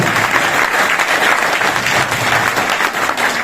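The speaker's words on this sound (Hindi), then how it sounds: "pride of mission mister Rakesh Sharma ji के लिए जोरदार तालियां" Loud, sustained applause from a seminar audience in Rohtak honouring Rakesh Sharma, dense and steady throughout without a break.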